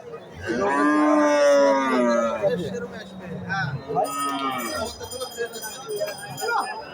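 Cattle moo loudly and close by at a cattle market in Mohanganj, one long drawn-out call followed by shorter lows, with faint clinking and people talking in the background.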